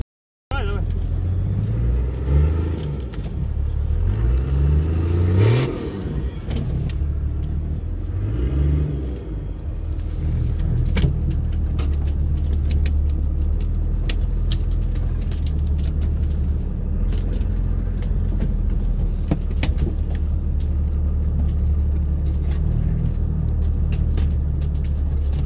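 A vehicle engine revs repeatedly under throttle, rising and falling in pitch over a steady low rumble, then settles into a continuous loud idle-like drone on a rough off-road route; faint voices speak briefly early on.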